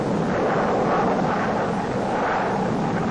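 Marine Corps jet aircraft fly overhead in 1967 during the Vietnam War era, a loud, continuous engine roar that swells and eases slightly but never breaks off.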